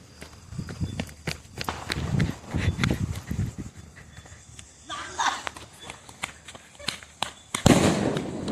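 Diwali firecrackers go off outdoors in a string of sharp, loud bangs and crackles spaced irregularly, mixed with shuffling footsteps, and people talk and shout throughout.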